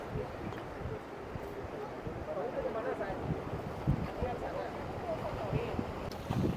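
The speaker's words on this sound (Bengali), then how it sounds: "বড় বড় ঢেউ কিভাবে আসে" Big ocean waves rolling against the rocks at Canal Rocks, Western Australia, make a steady broad wash of surf with wind buffeting the microphone and a voice talking over it.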